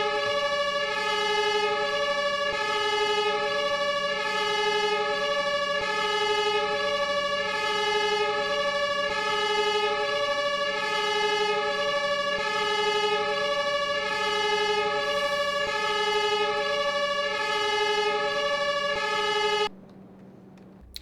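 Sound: siren sounding in Farming Simulator 25 video game

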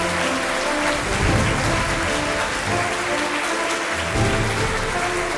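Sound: audience applause at award ceremony

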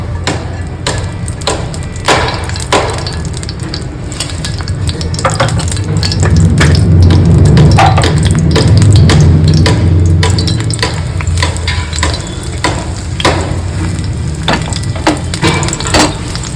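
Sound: frying bread in ghee

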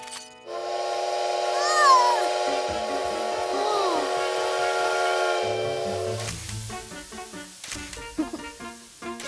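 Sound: train with steam whistle in a cartoon

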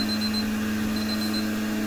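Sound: timer alarm going off

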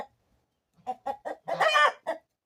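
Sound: chickens clucking

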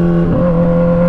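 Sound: Kawasaki Z1000 motorcycle engine revving with straight-pipe exhaust

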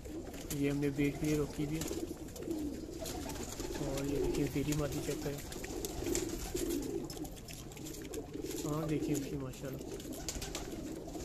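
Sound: female pigeon cooing

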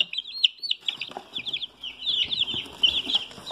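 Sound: Rhode Island Red chicks clucking in a box

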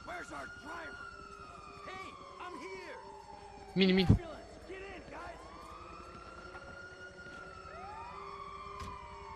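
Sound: ambulance siren in video game GTA 5

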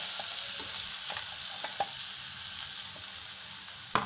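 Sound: ground spice powder stirred into frying peanuts

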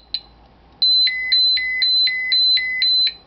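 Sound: dosimeter radiation alarm beeping

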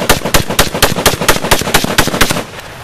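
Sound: gangster-style gunfire sound

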